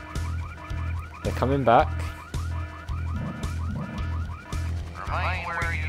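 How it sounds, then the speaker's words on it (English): A car alarm going off in the game Full Throttle Remastered, a repeating pulsed siren loop with rising whoops, loud and close, while a player talks over it. "But who set off the alarm, Floyd?"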